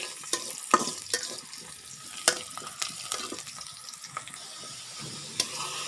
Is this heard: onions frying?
yes